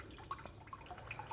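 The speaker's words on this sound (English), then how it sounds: "everything is closed up top, so it's just coming slowly, dripping" Fluid from a BMW e30 M3 under restoration dripping slowly, with a few soft irregular drips over a faint background hiss, close and quiet.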